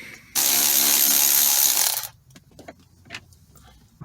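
A power driver spins a 10mm bolt out of a Toyota Sienna shifter panel in one loud, close two-second whir that cuts off abruptly, followed by faint clinks and handling taps.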